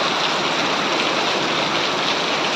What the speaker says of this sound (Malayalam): മഴയുടെ ആ സൗണ്ടൊക്കെ ആസ്വദിച്ചോളേ